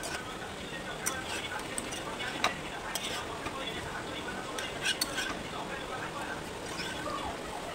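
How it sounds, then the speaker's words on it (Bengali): Chicken being stirred with sauce in a pan for sweet and spicy Korean chicken gives a continuous soft sizzling scrape with occasional light clinks of the utensil against the pan, steady and close. "এবার সসের সঙ্গে চিকেনগুলোকে ভালো করে মিশিয়ে নিব।"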